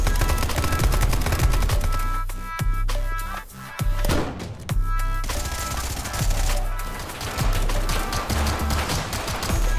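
Gunfire in the horror shooter video game SCP-5K: dense, loud automatic fire and heavy shots in sustained bursts, briefly pausing mid-clip before resuming, close and with no talking.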